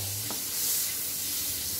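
Beef cooking in margarine in a pan, a soft, even sizzle with a faint stir partway through, quiet and brief with no voices.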